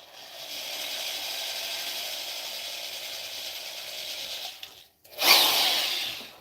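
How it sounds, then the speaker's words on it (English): A corded electric drill bores into a chunk of wood for a carved pipe, a steady loud whine and rattle for about five seconds, then a brief stop and a sharper, louder burst as it bites again. "I'm using a corded drill"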